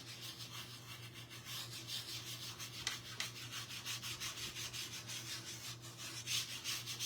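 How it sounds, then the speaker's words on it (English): Hands rubbing in circles to blend a eucalyptus craft piece make a soft, continuous rhythmic swishing, faint and close, with no talking. "I am just going to use my hands and I'm just going to blend by rubbing in circles."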